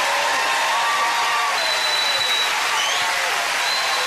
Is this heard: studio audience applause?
yes